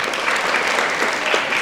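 Steady, dense clapping from a room of students at a Teachers Day celebration in Bidar, continuous and fairly loud throughout without a break.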